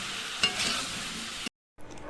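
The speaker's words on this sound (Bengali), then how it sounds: "6খানা কাঁচা লঙ্কা দিয়ে এটাকে ভালো করে ভাজবো" Six green chillies fry and are stirred in a pan, a soft continuous sizzle with scraping stirs, cut by a brief silent gap before the sizzling resumes.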